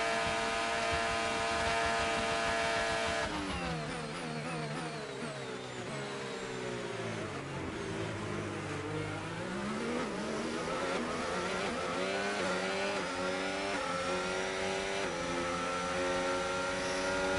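Formula 1 race car engine in F1 25 on the final lap: a high-pitched screaming engine that shifts abruptly, then dips and climbs through gear changes, loud and continuous with no talk.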